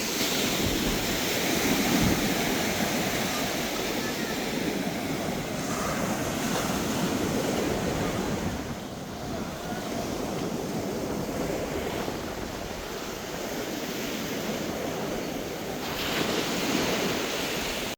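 Sea waves roll onto a beach under strong wind, a steady broadband roar of surf with gusting wind buffeting the microphone throughout, fairly loud and continuous with no voices.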